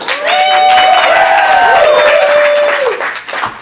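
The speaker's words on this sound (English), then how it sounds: "Let's get a big applause for our victorious captain." Comedy improv audience applauding, loud sustained clapping with cheers and a few whoops that fades after about three seconds.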